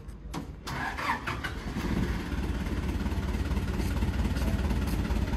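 Kubota M7950DT farm tractor diesel engine cranking and firing up after a short hammer tap, then settling into a loud, steady idle close by.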